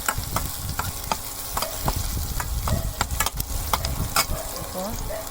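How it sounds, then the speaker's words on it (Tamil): Garlic and chopped green chillies frying in a pan for kari dosai, a steady close sizzle with a spatula scraping and tapping at intervals. "அது வரைக்கும் கொஞ்சம் லைட்டாக வறுத்து விட்டுருவேன்"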